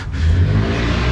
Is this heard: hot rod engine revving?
yes